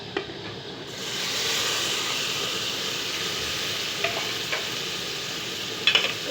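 Tomatoes and masala frying in a pan for tinda masala sabzi, a continuous loud sizzle with a few soft scrapes of stirring, close up and without talk.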